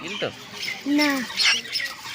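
A baby bird fallen from a tree, a koel or myna chick, gives loud raspy squawks and harsh begging calls at close range, several short cries in quick succession.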